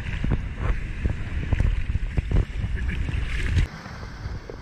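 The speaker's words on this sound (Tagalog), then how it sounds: "Ito, yan, binabagsakan ng alon yan." Waves slosh and break close by on the shore in repeated irregular surges under gusty monsoon wind, then the rush abruptly drops to a quieter hiss near the end.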